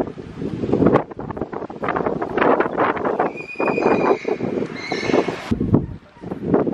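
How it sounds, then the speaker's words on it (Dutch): A horse can be heard outdoors alongside gusty wind noise, with a drawn-out whinny partway through and soft hoof sounds amid the blustery background. "Zo mooi dit paard, Bibi."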